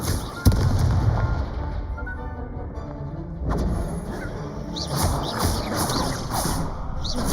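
Confringo fire spell blasts from the Hogwarts Legacy video game, a sharp crack followed by rumbling bursts and scattered crackling explosions, loud and close.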